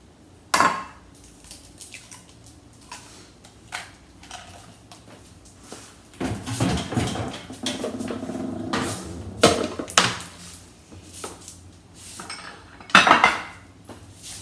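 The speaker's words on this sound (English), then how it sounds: "Take your 2 eggs and go ahead and scramble your eggs." Fork clinking and scraping against a bowl while two eggs are scrambled for chicken fried rice, with irregular bursts of sharp metallic taps, some louder clatters near the start and end, close up with no voices.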